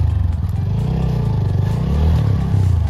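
A motorcycle rides down through a stream on a rough mountain trail, its engine loud, close and steady with a throaty rumble and slight revving, mixed with clattering over the riverbed.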